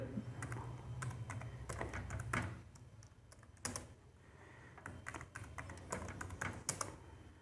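Rapid keystrokes on a computer keyboard while a command is entered for a NodeMCU weather bot, in uneven bursts of clicks over a steady low hum.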